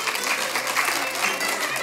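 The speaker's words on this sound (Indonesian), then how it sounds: "tepuk tangan dulu, tepuk tangan" A short, steady burst of audience clapping at an Indonesian religious talk show, dense and continuous throughout, with faint voices mixed in.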